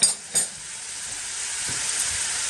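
Three diced carrots cooking down in a pot for a fish chowder give off a steady, close sizzle and hiss, with a couple of brief stirring clatters at the start, and no voices.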